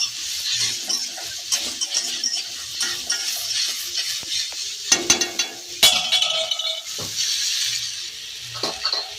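Pennywort greens being stirred in a curry pan, irregular scraping and clinking of a spoon against metal with soft sizzling underneath, near and moderately loud, no voices.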